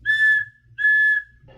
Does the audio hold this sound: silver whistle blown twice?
yes